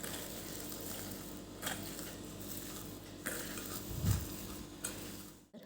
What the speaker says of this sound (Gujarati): તો બાઇન્ડિંગ માટે આપણે 1 કપ પલાળેલા પૌવા એડ કરીશું અને એને પણ સરસ મિક્સ કરી દઈશું